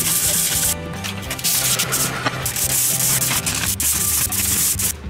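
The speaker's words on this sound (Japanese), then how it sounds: "粗い方のヤスリで大体削っただけでも結構生き返ったと思うんだけど、まあサビが取れたっていうのが正解かな。" Harsh, continuous rasping of a coarse file scraping rust off a large rusted kitchen knife, loud and close, with steady back-and-forth strokes and brief dips between passes.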